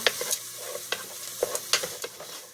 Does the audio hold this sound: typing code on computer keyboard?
no